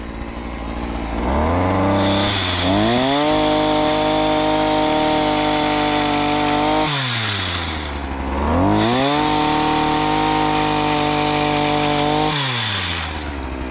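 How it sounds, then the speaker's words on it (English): A Parkside extendable chainsaw revs up loudly and cuts, its engine whining at a high steady pitch before dropping back to idle, then revving and cutting again, close and continuous with no talking. "So the chainsaw does seem to work actually very well"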